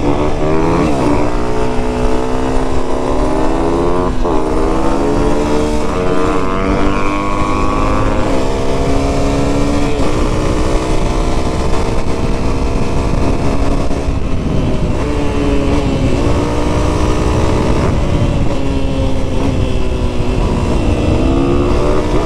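A 2020 Honda CRF250 dirt bike ridden on a paved road, its engine loud and close throughout, revving up and down through gear changes with a raspy continuous drone.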